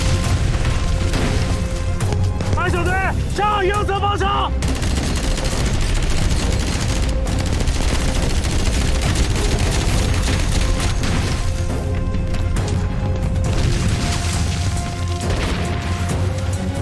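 Machine gun fire crackles in dense, continuous bursts during a battle scene in a Chinese war drama, with booms and crashes mixed in and a short voice cutting through early on.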